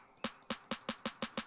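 The low-end layer of a dub techno snare programmed in Ableton, struck seven times in a quick, steady rhythm, each hit a punchy, full-bodied thud with a short decay, clear and alone.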